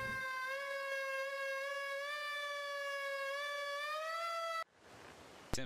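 A fire engine siren in the Emergency 4 video game wails loud and steady with a rising tone, then cuts off abruptly near the end, giving way to broadband noise.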